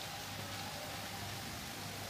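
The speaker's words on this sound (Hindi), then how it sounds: "झमाझम बारिश चल रही है पूरी।" Heavy monsoon rain pours down outdoors in a steady, dense hiss with no breaks, loud and close, falling on surrounding greenery and surfaces.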